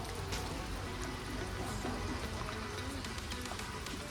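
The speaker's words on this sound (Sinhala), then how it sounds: "ඒවන්න වහිනවා." Steady rain falls as a dense, even hiss with no clear gaps or loud bursts from start to finish.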